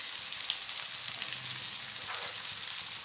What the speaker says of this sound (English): I am using a small pan so that it can be fried easily